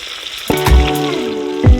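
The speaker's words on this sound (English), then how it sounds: "Okay, sauteing is all complete." Food sautéing in a pan on an electric cooker run from a portable power station, with loud sizzling close by, a low thump at the start, and scraping and knocks of stirring along with tonal hums.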